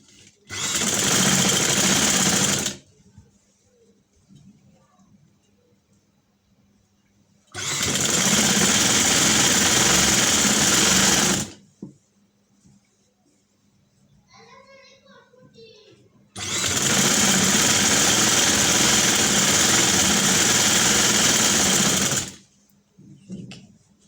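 A sewing machine stitches along an existing seam of a dress, running in three long steady bursts with quiet pauses between, and faint voices can be heard during one gap.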